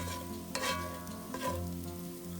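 Potatoes frying with butter in a pan, a low continuous sizzle with a couple of soft stirring scrapes, quiet and close, no voices.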